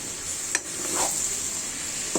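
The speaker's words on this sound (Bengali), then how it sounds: "নাড়াচাড়া করে দিচ্ছি মাংসের সাথে" Chicken meat and cabbage are stirred in a hot frying pan, giving a steady close sizzle broken by two sharp scrapes of the spoon against the pan.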